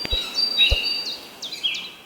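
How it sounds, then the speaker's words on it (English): Bright bird chirps and tweets repeat in quick succession, with a couple of low thumps near the start, sounding close and slightly thin, as if from a small speaker. "It was bird sounds, like the kind you hear in nature."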